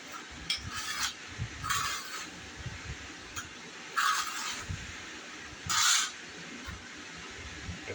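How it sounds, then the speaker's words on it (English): A steel trowel spreads and scrapes thin-set mortar across the back of a tile in a few short, separate bursts of scraping, close and fairly clear, with small clinks in between. "So anyway, then I back butter"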